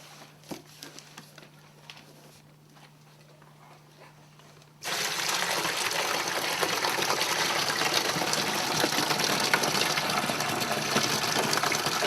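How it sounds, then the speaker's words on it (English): Grape juice pours from a box into a bentonite solution for winemaking, a sudden loud, steady gushing splash of liquid that starts after a few seconds of quiet handling noises and runs on without a break. "is to add the juice to the bentonite solution."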